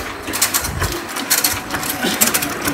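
An industrial sugarcane peeling machine spins with a busy, rattling mechanical clatter and irregular bursts of scraping, loud and close.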